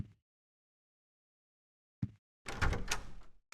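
An apartment door in the Silent Hill 4 video game gives a short knock, then after a pause a louder rattling, sliding clatter against near silence.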